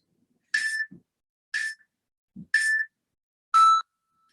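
A workout timer gives four evenly spaced electronic beeps about a second apart, the last one lower in pitch, with a faint thump between some of them in an otherwise quiet room.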